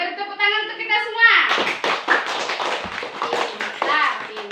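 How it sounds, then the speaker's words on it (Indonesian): Classroom of fourth-grade children clapping together in a burst of applause, loud and sustained for several seconds, following a short spoken or sung phrase from a group of kids at the start. "beri tepuk tangan untuk kita semua"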